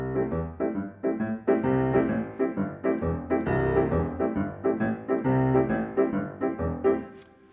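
Solo piano playing a shuffle rhythm, with chords and bass notes bouncing in a steady swung long-short pulse. It is loud and close, with no voices.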